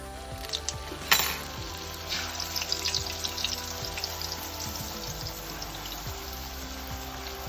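Hot oil bubbling in a pan while heating for frying Mauritian-style aloo puri, a steady crackling fizz with one sharp louder burst near the start, close and continuous with no talk.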